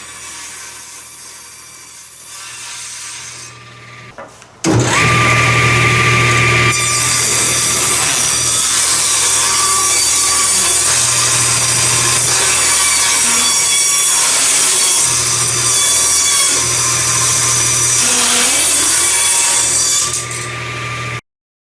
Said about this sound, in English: For the trim edge, I'm just using a nice piece of ash, of which I'm cutting down to approximately 1x1